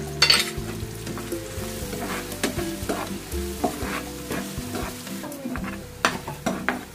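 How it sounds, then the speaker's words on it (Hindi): Spice masala of red chilli, coriander, turmeric and cumin powders with salt roasting in a pan for bhindi masala, a steady close sizzle broken by repeated scraping and stirring strokes of a spoon against the pan. "देख सकते हो यहाँ हमारा मसाला भून रहा है"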